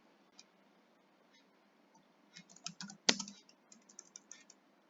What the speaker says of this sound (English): You can just type your question here.